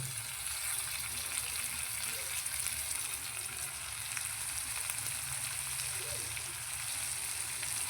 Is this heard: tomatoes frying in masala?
yes